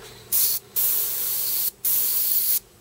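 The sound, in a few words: paint spray gun spraying paint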